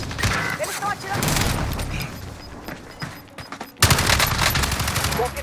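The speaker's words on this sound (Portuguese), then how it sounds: "Eles estão atirando." Bursts of automatic and single gunfire from the Warzone battle royale on Rebirth Island, loud and fairly close, with a sharp crack near the middle and continuous firing around it, while game voice lines play over the shots.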